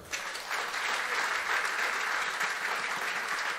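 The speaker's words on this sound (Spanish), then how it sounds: "un sonoro aplauso" Audience applause at a centenary tribute concert for a musician, a sustained even wash of clapping from a crowd, rising quickly and holding steady throughout.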